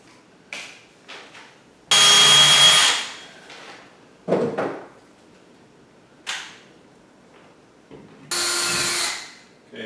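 Power drill boring a pilot hole for a shelf anchor in a wall, with two loud, close bursts of whining motor about a second long and shorter clacks and scraping between them, without any talk.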